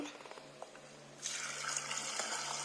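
Water gushes in a steady stream, poured into a metal pressure cooker after a few soft clinks, fairly close and unbroken until the end.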